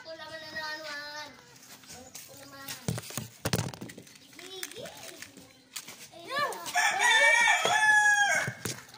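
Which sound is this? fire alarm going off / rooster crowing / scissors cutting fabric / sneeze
rooster crowing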